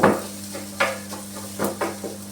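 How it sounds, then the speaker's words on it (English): Tofu and onion browning in a pan for a vegan pasta dish, a quiet frying hiss under a few short scrapes and clinks of stirring, close and moderate. "While we're browning that tofu a bit"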